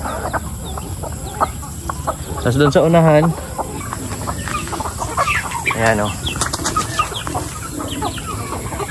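Chickens and turkeys on a farm cluck and call close by, with a louder burst of squawking and wing noise midway, while someone talks over the flock.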